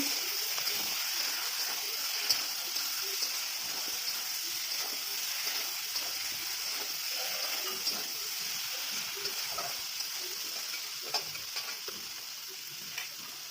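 Chicken pieces and potatoes fry in a pan for chicken kosha and get stirred, giving a steady close sizzle with scattered scraping clicks of the spoon throughout, no voices.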